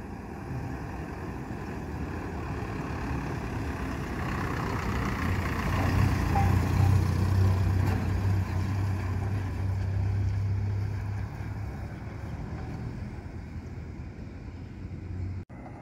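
A Brasil bus at the Campos dos Goytacazes bus station after boarding finishes, its heavy diesel engine rumbling close and steady, swelling louder midway before easing off.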